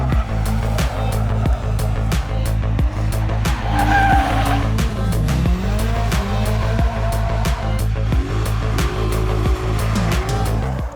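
Stock BMW 125i sliding sideways on a track on new tires: a loud, continuous engine drone with rising and falling revs under a steady, wavering tire squeal throughout, close and unbroken.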